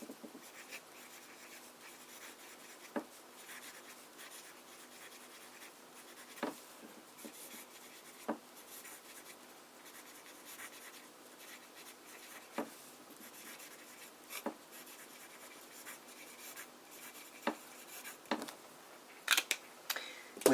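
Broad nib fountain pen writing on paper, faint soft scratching strokes with occasional sharper ticks of the nib, close and alone without any talk.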